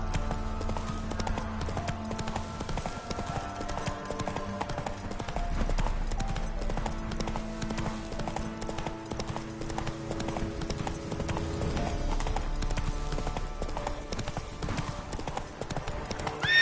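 A horse gallops in The Witcher 3, with a steady clip-clop of hooves that continues throughout under game ambience and music.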